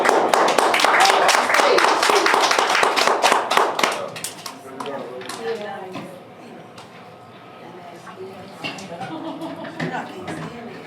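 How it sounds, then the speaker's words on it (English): A small group at a writing session claps loudly and briskly for about four seconds, then the clapping fades into scattered taps and overlapping chatter and talk. "I'll give him a round of applause"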